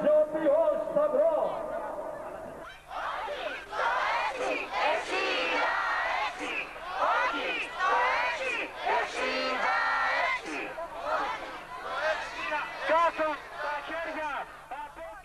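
A large crowd protests in Greece in 1997, shouting and chanting loudly and continuously after a quieter opening few seconds, with many voices blending into a dense roar.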